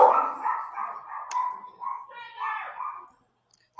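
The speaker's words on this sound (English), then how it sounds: "I have a house full of dogs, and anytime we move around, they're very protective of my grandparents, and they go crazy" Several dogs bark and yip excitedly inside a house, a steady close run of overlapping barks for about three seconds before cutting off into silence.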